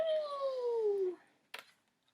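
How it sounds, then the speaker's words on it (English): A dog lets out a single drawn-out whine that falls slowly in pitch for about a second, fairly close and clear, followed by a brief sharp noise, then quiet. "I can hear my doggie whining in the background."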